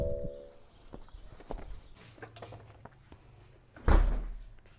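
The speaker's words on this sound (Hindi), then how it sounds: "इतनी जोर से तूने फ्रिज का दरवाजा मारा है?" A fridge door is shut hard in a home kitchen, landing as one loud thud near the end after quieter shuffling and rustling.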